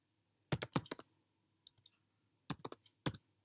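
Keys clattering on a computer keyboard as Python code is typed, in quick close bursts of clicks separated by short silent pauses.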